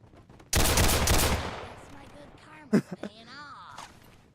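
A single loud, harsh burst of gunfire rings out in heavily modded Fallout 4 gameplay, fading over about a second. Quieter creaks and a voice-like tonal murmur follow.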